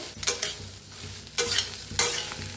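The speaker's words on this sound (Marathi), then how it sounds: "आता मक्का छान असे भाजून घेऊया।" Sweet corn kernels roasting in a hot wok, with a few loud, close scraping stir strokes over a continuous low sizzle and no voices.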